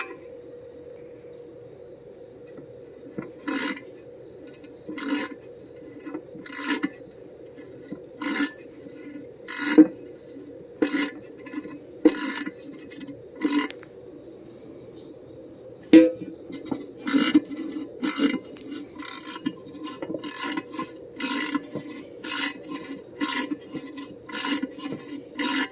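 A tap cutting threads into a transmission oil pan for a 1964 Chevrolet TH350, giving a series of sharp ratcheting clicks in irregular bursts over a faint steady hum, close and quiet.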